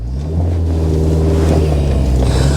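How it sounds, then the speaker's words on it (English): A Peugeot 205 CTi soft-top with its engine under full throttle, a loud, deep, droning induction roar with steady low harmonics that swells after a brief lull and holds close. "hopefully the microphone's picking up the induction noise, because it is really quite lovely"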